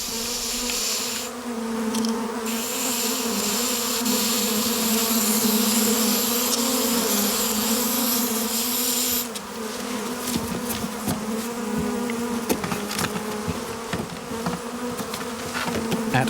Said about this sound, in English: At first, the bees seem to tolerate being shaken into the box.